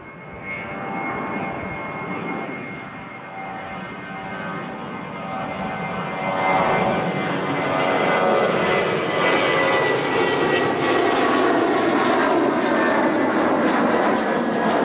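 A United jet airliner climbs steeply out of Toronto Pearson after takeoff, a loud broad engine roar with a rising whine that holds steady and swells toward the end, no voices over it.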